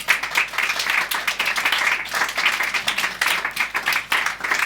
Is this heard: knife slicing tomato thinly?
no